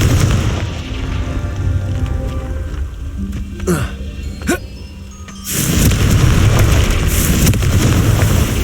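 A Confringo fire spell explodes in the video game Hogwarts Legacy: a loud, sudden boom bursts out about halfway through and rumbles on to the end, after quieter game ambience with a few sharp whooshes.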